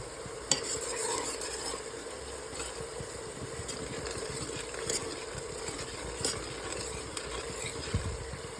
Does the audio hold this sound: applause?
no